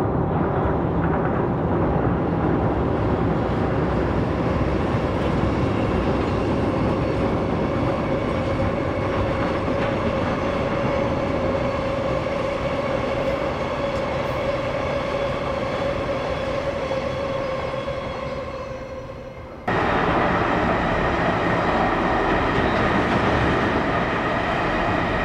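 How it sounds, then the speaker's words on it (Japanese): A long freight train hauled by an EH200 electric locomotive rumbles steadily past at speed with a sustained motor hum and rolling wheel noise, fading before the clatter of wagons returns. "そして EH200 牽引の貨物列車もやってきました。"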